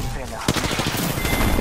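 Rapid automatic gunfire in a battle-royale video game crackles in a dense, loud burst, with a sharp shot standing out near the start and game noise underneath.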